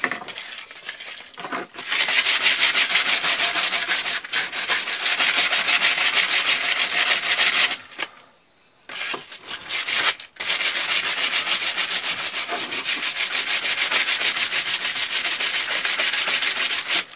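Sandpaper rubs over a burnt wooden spear tip in long, steady rasping strokes, close and loud, pausing briefly twice before carrying on with no talking.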